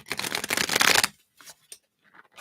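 Tarot cards shuffled by hand, a dense riffling burst for about a second, then a few soft taps and slides of the deck, close and with no talk.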